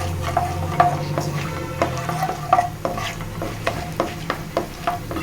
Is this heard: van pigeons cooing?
no